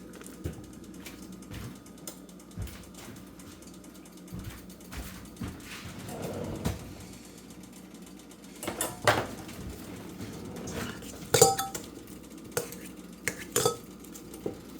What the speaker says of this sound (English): I'm gonna cream 4 tablespoons of butter.